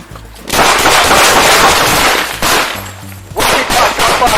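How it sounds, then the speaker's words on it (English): Gunfire in a police shootout in Lodi, California: loud, close, sustained bursts of shots that fill most of the stretch, with a brief lull before another volley and no clear talk. "That's when bullets start to fly."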